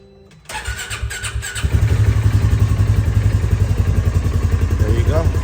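A 2022 Polaris engine is cranked with the key, catching after a brief click and settling into a close, loud, lumpy idle with a steady rhythmic pulse.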